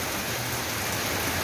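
Steady rain falling in October, a dense continuous hiss of drops on surfaces, loud and close throughout with no other sounds.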